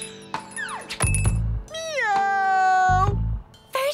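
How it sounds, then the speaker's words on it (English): A cartoon cat from a children's animated series gives several bright, bending meows in quick succession, broken up by short low thumps and other cartoon effects. "Meow!"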